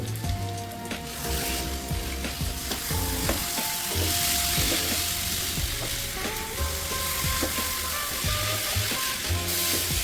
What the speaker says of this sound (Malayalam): കറിവേപ്പില ഇട്ട് കൊടുത്തിട്ട് നമുക്കൊരു 3 മിനിറ്റ് കൂടെ ഫുൾ ഫ്ലെയിമിലിട്ട് നമുക്കൊന്ന് കുക്ക് ചെയ്യാം.